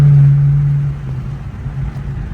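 A 2021 Infiniti Q50 with a Rev9 axle-back exhaust, its engine droning loud and close as it shifts gears, the tone dropping and settling into a steady lower rumble.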